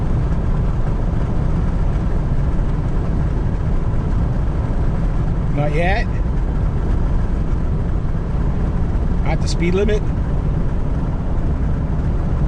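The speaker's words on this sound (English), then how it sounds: "Engine's just idling." A Hemi truck engine idles while the truck coasts downhill, a steady low drone heard from inside the cab. Brief spoken remarks come through twice over it.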